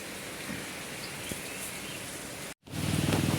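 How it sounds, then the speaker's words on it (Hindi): Heavy rain falls in Goa as a steady broadband hiss, moderately loud and continuous, briefly cutting out near the end before resuming louder. "देखिए अभी और तेज़ हो गया बारिश, और ज़्यादा बहुत बारिश हो रहा है"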